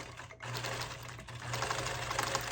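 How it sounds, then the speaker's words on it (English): A sewing machine hums and chatters continuously at close range while stitching in the waist of a garment being altered, with a short pause before it picks up and runs steadily. "here I am sewing it in. the waist."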